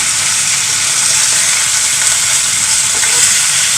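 Fish fries in a pan with a loud, close, continuous hissing sizzle that holds steady without a break.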